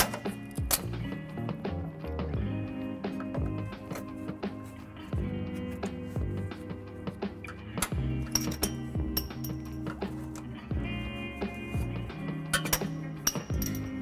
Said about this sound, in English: I'm going to go ahead and just use a flathead screwdriver and just kind of pry them out